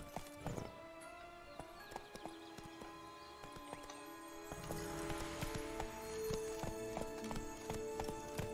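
Roach the horse galloping in The Witcher 3, with quick rhythmic hoofbeats clattering at a fairly close distance over a steady game background and no voices.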